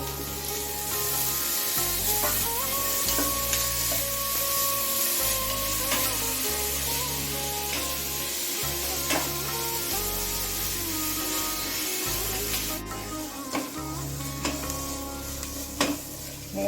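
Ginger garlic paste frying in a pan while cooking Bihari chicken, a steady sizzle with scraping and rubbing of a utensil against the pan, close and continuous throughout.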